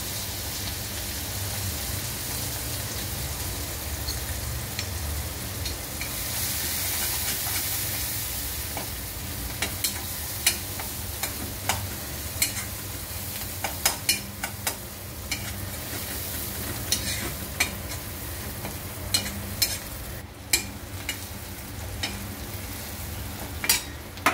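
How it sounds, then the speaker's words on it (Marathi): Ground ginger, garlic and green chili paste sautés in a pan for a spicy cluster-bean thecha. A steady close sizzle runs throughout, broken by sharp ticks and scrapes from stirring, and no one speaks. "आता आपण हे आलं, लसूण आणि मिरची वाटली आहे ना, ते परतून घेऊया."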